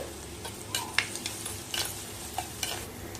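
Onion and curry leaves sizzle in a pan after mustard seeds have popped, with soft stirring scrapes and a few sharp ticks of spatula on metal over a steady, quiet frying hiss.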